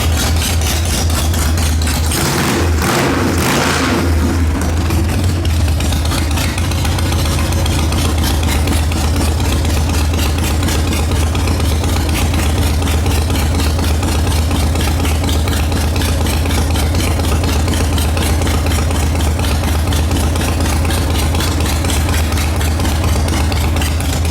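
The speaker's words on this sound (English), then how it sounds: "This bike sounds good." A Harley Sportster motorcycle engine idles steadily and loudly up close, a deep continuous rumble with a brief blip early on, no voices.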